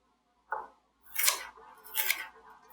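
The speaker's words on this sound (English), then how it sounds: "I like to flip the pepper around because it's easier to cut." A knife slices a pepper into thin matchstick julienne strips on a cutting board, giving one short tap and then two broad, crisp cutting strokes, close and quiet, with no talking.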